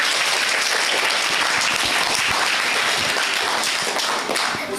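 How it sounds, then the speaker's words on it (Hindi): A crowd of students breaks into loud, dense applause at a school antakshari song contest, continuous clapping that stays strong throughout. "तालियां"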